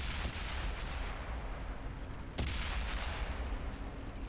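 Tank cannon fire in World of Tanks, including a French AMX tank: two heavy booming shots land about two seconds apart over a constant rumbling battle din, loud and close, with no talking.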